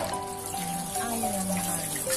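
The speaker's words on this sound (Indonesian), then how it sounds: "Bayamnya kita cuci dulu ya." Spinach rinsed under a running tap gives a steady close stream of water splashing into a sink, continuous and moderately loud for the whole short stretch.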